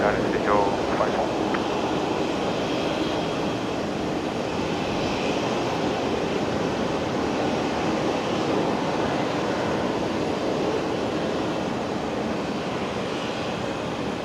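An airliner's engines give a steady, muted roar across Brisbane Airport, a continuous broad wash of noise heard from afar with no talk over it.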